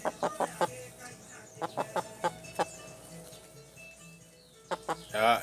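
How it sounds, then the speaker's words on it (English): A chicken clucks in short, sharp bursts, a quick cluster at the start, a few spaced clucks in the middle and more near the end, fairly close and clear over a quiet background, with a brief louder squawk at the close. "we have a chicken"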